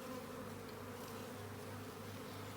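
Honey bees in a hive with plastic foundation, a dense continuous buzzing hum from many bees close up, steady and alone.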